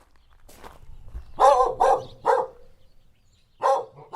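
A palomino-coated farm dog barks at a microphone, four sharp, close barks, three in quick succession and one more after a pause, with soft shuffling steps between them.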